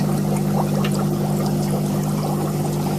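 A DIY aquarium sponge filter sends out a steady, close bubbling and splashing of water under a constant low hum, running without pause.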